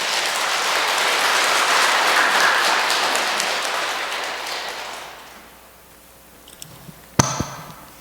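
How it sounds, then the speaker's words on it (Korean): A church audience applauds to welcome a Salesian priest arriving for a Lenten lecture, a broad wash of clapping that swells and then fades over about five seconds, followed by a few scattered knocks and a sharp clatter. "환영합니다. 박수."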